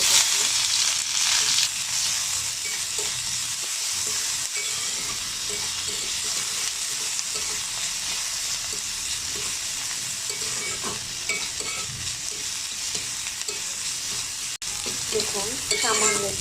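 Chopped onion and green chilies fry steadily in a pan for a Bengali vegetable snack, a continuous close sizzle and hiss with faint stirring scrapes, no talk over it.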